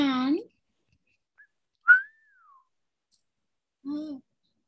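A person gives a catcall whistle on stage at a live comedy show: one clear sliding wolf whistle that rises and then falls. It sits between short bursts of people talking.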